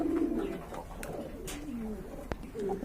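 Young satin pigeons in a fancy pigeon farm coo softly, a few low rolling coos close by with light rustling and faint background noise.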